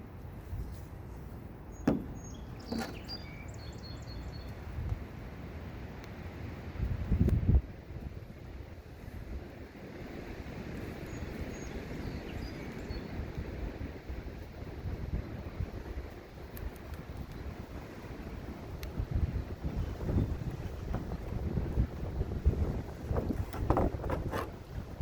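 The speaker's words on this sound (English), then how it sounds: "Little windy out here, guys." Wind gusts outdoors buffet the microphone in uneven rumbling bursts through a long stretch of steady low roar. A few faint clicks and knocks sound nearby, and no one talks.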